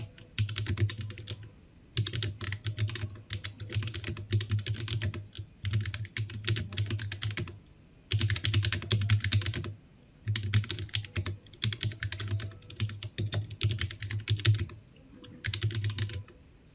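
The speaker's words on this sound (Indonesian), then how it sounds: "dia juga nggak terlalu bisa cepet-cepet banget yang ngetiknya pakai keyboard sekecil ini" Typing on a small custom mechanical keyboard in bursts of rapid, moderately paced keystrokes with brief pauses between runs, close and clear with no talking.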